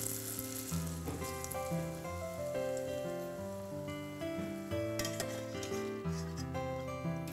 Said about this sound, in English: we're gonna fry them until they're golden brown and nice and crispy